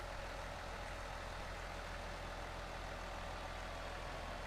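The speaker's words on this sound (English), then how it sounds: "leave the engine running" A tractor engine idling in the Farming Simulator 19 video game, a steady, unchanging low hum with a constant hiss and no talk.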